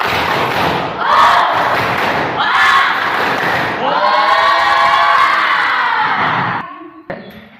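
A classroom of students in an Indonesian lesson perform a rhythmic spirit clap on a teacher's command, loud bursts of clapping and group shouting in several phrases, ending with a brief cheer.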